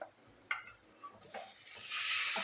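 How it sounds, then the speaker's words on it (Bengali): Marinated chicken dropped into hot oil with fried onions for posto chicken: a few quiet clinks and stirs first, then a loud, close sizzle and crackle that swells and holds to the end. "এবার পেঁয়াজ ভাজার মধ্যে আমি এই ম্যারিনেট করা চিকেনটা দিয়ে দেবো।"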